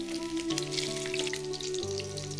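Prawns frying in oil over medium heat, giving a fine, soft crackling sizzle beneath sustained tonal background music, with no speech.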